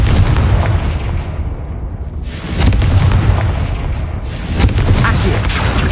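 Repeated Confringo fire spells bursting in Hogwarts Legacy, loud rolling blasts in two or three waves with broadband roar and swells between them, no speech.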